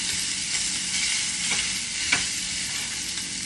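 Sausage meat frying in a pan for homemade spaghetti makes a steady, close sizzle, broken by a couple of light clicks from stirring, with no voices.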